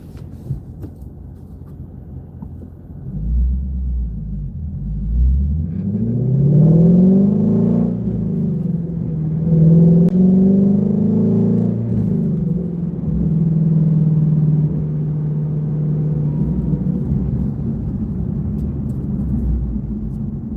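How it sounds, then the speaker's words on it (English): A Shelby GT350 with a GT350R-style exhaust setup and X-pipe revs up with a deep rumbling exhaust roar, rising and falling in pitch before settling into a steady loud idle. "So it's basically just the GT350R exhaust setup."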